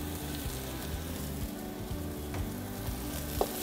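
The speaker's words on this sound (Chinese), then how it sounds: "香茅需要在这个时候让它去煸炒，为的是要把它的香味带出来。" Lemongrass stir-fried in red chili oil for Nyonya asam fish, a soft continuous sizzle with faint rhythmic stirring taps and one sharper clink near the end, quiet and close.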